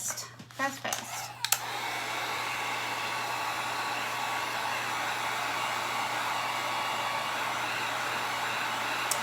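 A hair dryer blows steadily on freshly painted wood of a birdhouse, a loud continuous whoosh that starts after a second or so of handling noise and runs unbroken to the end.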